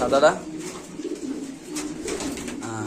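Racer pigeons coo in soft, throaty, repeated calls, close by, amid faint background voices.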